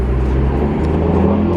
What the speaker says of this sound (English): This car sounds pretty fast.